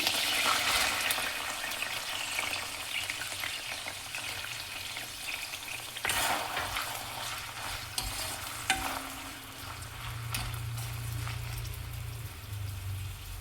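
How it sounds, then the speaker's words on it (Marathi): Finely chopped onion frying and being stirred in a pan, a steady close hiss of sizzling oil with scraping stir strokes, a brief louder burst near the middle, no talking. "आता यात टाकत आहे मी बारीक चिरलेला साधारण एवढा कांदा"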